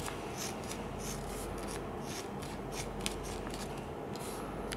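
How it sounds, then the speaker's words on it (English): Scissors cut lengthwise down the middle of a strip of kinesio tape with a continuous close rasping, rubbing crunch, broken by a few quick snips. "we're just gonna cut that lengthwise"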